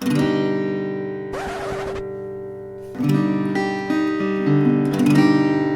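A strummed out-of-tune guitar chord rings out with sustained, slightly clashing tones, followed by a brief scratchy strum and more ringing chords, loud and close.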